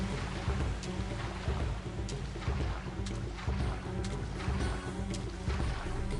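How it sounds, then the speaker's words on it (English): Boat engine from the Tomb Raider 3 video game, a steady low rumbling drone with water and wind-like wash running continuously and fairly loud throughout, no talking over it. "It's nice chill listening to just the engine sounds and such."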